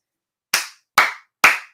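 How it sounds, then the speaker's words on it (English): Three sharp, evenly spaced hand claps ring out close and alone, each with a short decaying tail. "Round of applause"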